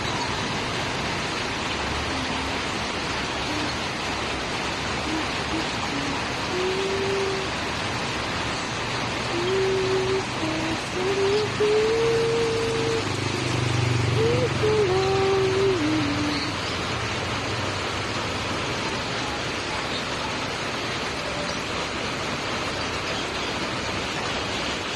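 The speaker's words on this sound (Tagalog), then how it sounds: "Pero ang lakas na ng ulan." Heavy rain pours down in a steady, dense wash of noise that fills the whole stretch, with a few faint tonal calls rising briefly through the middle.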